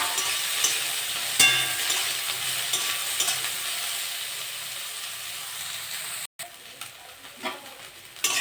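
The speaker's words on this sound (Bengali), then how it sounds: "তেলটা গরম হয়ে গেছে, সয়াবিনগুলো ভেজে নেব।" Soybean chunks fry in hot mustard oil in a pan, giving a continuous steady sizzle and hiss close by with no talking.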